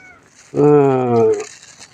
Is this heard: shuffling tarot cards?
no